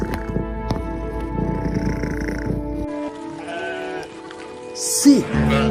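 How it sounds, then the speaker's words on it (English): Sheep bleat on a farm, a couple of wavering calls near and far, with a rain-like patter in the first half. "Sheep."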